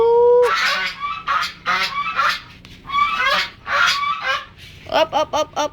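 Geese honk loudly and close in a series of harsh calls, ending with a quick burst of four or five rapid honks.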